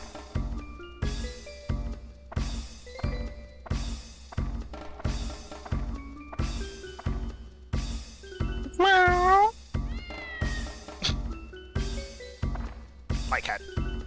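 A cat meows with rising, wavering cries in the video game Dark Cloud, heard over a steady, repeating rhythmic game backdrop of regular thumps.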